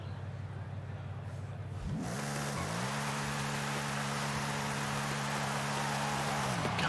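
A car in Forza Horizon 5 launches in second gear: a low idle hum gives way to a sustained, steady engine drone with a slight pitch rise, droning on loudly to the end over a hiss.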